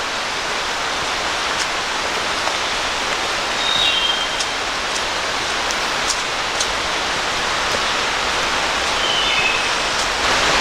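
Glade Creek Falls in New River Gorge National Park, a steady broadband rush of falling water heard close and loud throughout, with faint bird chirps above it.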